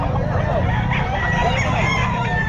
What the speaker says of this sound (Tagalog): Ayan ang mga manok niya.